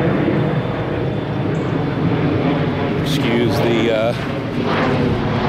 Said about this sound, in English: the plane flying over.